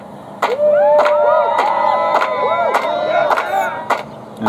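A crowd cheers and claps, loud and close, with whoops and shouted voices rising over dense, rapid clapping that runs almost unbroken from just after the start.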